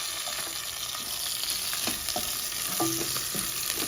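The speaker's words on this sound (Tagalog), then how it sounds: "pag naamoy ko na yung bawang na medyo naluluto na siya" Garlic sizzles and fries steadily in a pan while being browned for beef kaldereta, with a constant hiss and occasional soft stirring clicks, up close and without voices.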